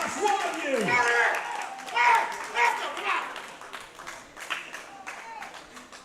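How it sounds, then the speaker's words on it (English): Crowd at the World Classic Powerlifting Championships cheering and clapping during a world record deadlift attempt, a rising roar of shouts and applause mixed with a commentator's voice that fades toward the end. "The crowd rallying behind him."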